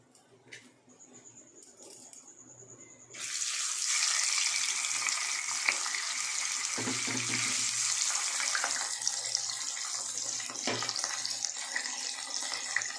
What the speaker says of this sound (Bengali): মাছগুলো দিয়ে লাল লাল করে আমি ভেজে তুলে রাখবো।